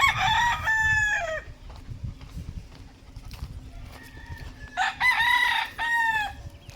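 Gamefowl roosters of an early bird breeding batch crow twice, loud and nearby, with scattered clucking and farmyard rustle between the calls.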